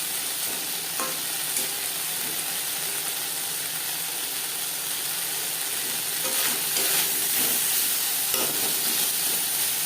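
Brinjal frying with spice masala in a pan for a fish curry, a steady close sizzle with occasional stirring scrapes throughout.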